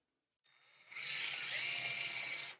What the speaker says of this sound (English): You have to pre-drill the hole for the screw